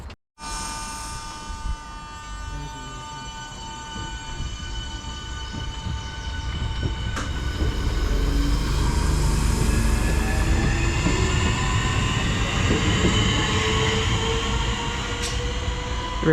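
Class 465 electric train 465019 departs a station in Kent for London Charing Cross, its motors whining through rising tones as the rumble of wheels on rails builds and stays loud and close.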